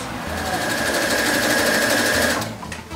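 A sewing machine runs steadily for about two and a half seconds while costumes are being sewn, a loud whirring hum that then stops abruptly.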